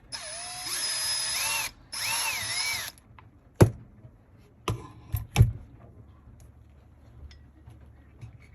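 A power driver whirs in two close bursts while undoing the caster block screws on a Traxxas Slash 4x4 RC truck, followed by a few sharp clicks and knocks of parts being handled, with no talk.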